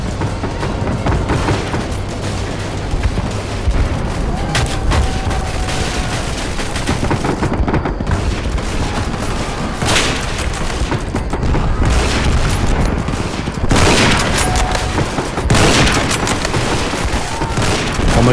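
Machine gun fire in a Roblox shooter video game, a dense continuous rattle of loud gunfire with booming bursts throughout, no talking heard over it.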